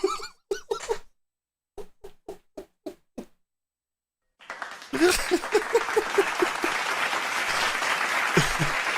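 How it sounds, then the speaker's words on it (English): Studio audience bursts into loud, sustained applause and cheering during a live talk show, rising after a few sharp isolated claps and filling the room with dense crowd noise. "That gets the clap."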